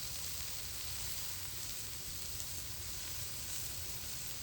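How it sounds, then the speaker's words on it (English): Smash burger patties sear on a flat-top Blackstone griddle, a steady, dense sizzle that holds evenly loud and close throughout with no talking. "Got a nice sear going on."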